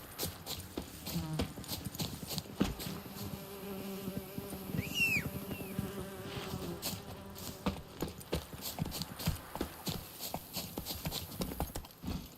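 Roach the horse galloping in The Witcher 3, a steady rapid clip-clop of hooves running throughout against a busy ambient game soundscape, with a brief high whistling tone around the middle.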